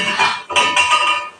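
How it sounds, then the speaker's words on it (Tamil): A brief metallic clatter and clink as a tin tempering spice box is opened in a kitchen, with no voices. "தாளிக்கிற பெட்டி ஓப்பன்."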